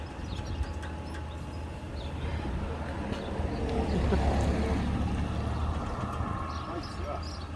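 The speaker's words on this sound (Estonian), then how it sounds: "Vähemalt ühes kohas käib veel täitsa, ma ei tea, kas öelda nüüd aktiivne pumpamine, aga igal juhul pump töötab." Oil well pump driven by a 7 kW electric motor running outdoors in Albania, a steady low mechanical hum and rumble that swells slightly midway, with people talking nearby.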